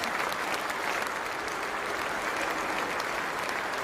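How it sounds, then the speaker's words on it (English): A large cricket crowd at a famous ground during the 2015 Ashes against England stands and applauds Steve Smith off after his innings of 215, sustained dense clapping from the stands, steady and broad with no voices above it. "Everyone at this famous ground standing to applaud Stephen Smith off the ground for 215"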